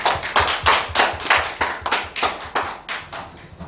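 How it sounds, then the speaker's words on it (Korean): Church congregation applauding during a Sunday worship service, a rhythmic burst of unison clapping at about four claps per second, close and loud, with no talking. "우리에게 은혜 주신 하나님께 영광의 박수 올려드리겠습니다."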